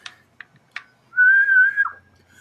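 A man with two teeth knocked out whistles one steady, sustained note lasting under a second, close and clear, after a few short soft clicks and breaths.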